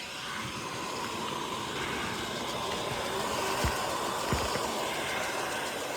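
A Hoover WindTunnel OnePowr Emerge cordless stick vacuum runs with a steady broadband whoosh of motor and airflow at reduced suction, close and constant, with a couple of faint clicks as it moves.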